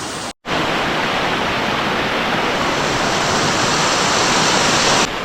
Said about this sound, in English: So I actually stayed here at this waterfall an hour